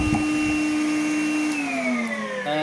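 Makita 18V cordless drywall cutter running steadily through plasterboard with dust extraction attached, a loud continuous high whine with pitch dropping slightly as it loads up, heard close and alone.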